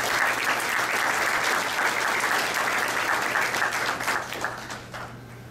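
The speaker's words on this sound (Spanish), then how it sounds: "les pido a ustedes un aplauso." An audience at a talk on seismic information for the Rímac river basin claps for the incoming speaker, a steady full round of applause that thins and fades near the end.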